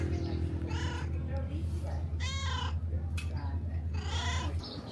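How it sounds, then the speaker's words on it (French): A small cat meows a few times near a harbourside café, the short calls rising over steady background hum and nearby talk. "il y a des petits chats, enfin il y en a un qui vient chercher les gratouilles"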